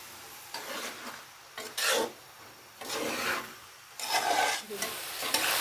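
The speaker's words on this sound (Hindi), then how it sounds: "इन दोनों चीज़ों को भी मैं 5 मिनट के लिए भून लेती हूँ।" Potatoes and mongray stir-fried in a pan for aloo mongray sabzi, with repeated scraping stirs in uneven bursts over a light sizzle, close and fairly loud, no voices.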